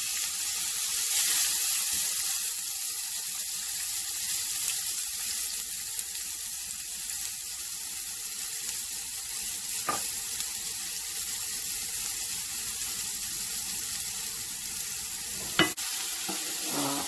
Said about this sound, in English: these onions have to be fried till it becomes translucent